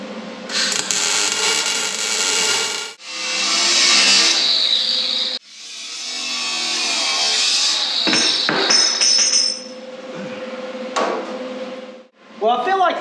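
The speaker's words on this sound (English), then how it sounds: "I got to weld all this up." Welding on the tubing of a street stock race car's rear weight jack towers, with long steady hissing, crackling bursts broken by brief pauses, close and loud. A few quick metallic knocks come near the end.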